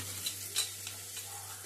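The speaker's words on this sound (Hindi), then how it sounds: "प्याज टमाटर मैंने भूनने के लिए रख दिया है" Onions and tomatoes frying in a pan for a dal tempering, a steady soft sizzle close by with a few scraping stirs from a spoon.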